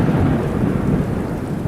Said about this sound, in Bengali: তখনই কাছে পিঠে কোথাও ভীষণ জোরে বাজ পড়ল।